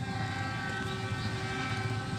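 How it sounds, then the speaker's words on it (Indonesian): Lodaya passenger train passing at high speed on an Indonesian rail line, a steady loud rushing roar of wheels and cars throughout with no talk. "kereta api Lodaya gaspol parah ya di petak Ranca Ekek Haur Pugur"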